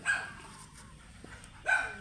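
A Labrador dog gives two short barks or yips, one at the start and one near the end, with quieter sounds in between at moderate distance.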